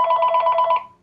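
A telephone in the room rings once, a loud, close, rapidly trilling electronic bell that cuts off after about a second.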